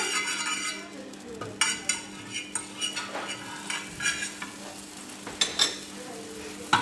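Steady sizzling of butter heating in a frying pan, with occasional clinks and scrapes of a utensil stirring against the metal.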